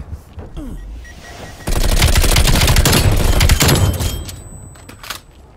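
An enemy turret in Call of Duty: Black Ops Cold War multiplayer opens up with sustained, loud machine-gun fire, a dense rattling burst of several seconds that fades off as scattered shots follow.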